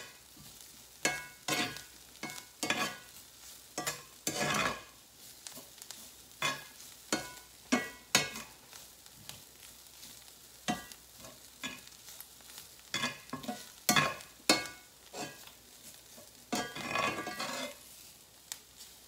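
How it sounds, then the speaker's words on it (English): Vegetables and flour being stirred in a hot pan, with a steady low sizzle under repeated scraping and clattering strokes of a utensil, close and irregular in rhythm, with no talking. "I'm gonna keep moving these vegetables around."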